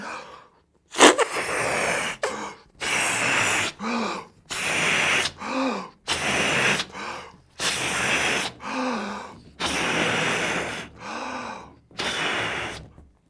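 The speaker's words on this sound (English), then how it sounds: "I've got this punch balloon and I want to blow it up to demonstrate that to you" Someone blows up a punch balloon by mouth in a quick run of about nine hard puffs, each a loud rushing breath into the balloon followed by a brief gasping inhale between them.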